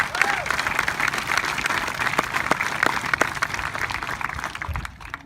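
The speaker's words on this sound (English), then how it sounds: "Yes, clap." Group of kids at a baseball camp clapping outdoors on a hot day, a steady wash of applause with scattered sharper claps, fairly loud and continuous, tapering off at the end.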